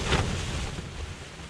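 Strong wind roars and buffets against the microphone in a steady, broadband rush on Dusungsan mountain, Jeongeup, during rainy-season backpacking, loudest at the start and easing slightly.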